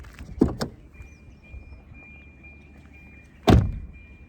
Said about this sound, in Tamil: இந்த நான் உங்களுக்கு ஓப்பன் பண்ணி நானே க்ளோஸ் பண்ணி காட்டுறேன் நீங்களே அந்த தட்டு எஃபெக்டை பாருங்க